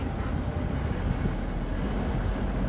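The refrigerated box cooling unit on a 2019 Toyota Revo J Plus pickup blows air in a steady, close, broadband whoosh that holds level throughout with no talking.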